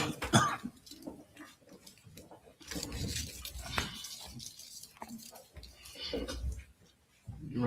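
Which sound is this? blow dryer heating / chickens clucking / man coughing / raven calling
man coughing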